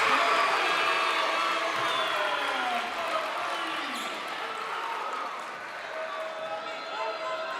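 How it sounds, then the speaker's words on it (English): A girls high school basketball crowd, Girard Trojans against Frontenac Raiders, cheers and roars right after a made three-pointer, loud at first and then settling into a sustained hum of voices and shouts with some shoe squeaks. "And now this crowd is getting loud."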